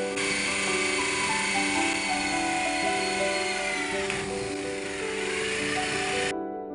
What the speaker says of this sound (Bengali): তার জন্য সেই রকম মাপ দেখে ড্রিল করছে।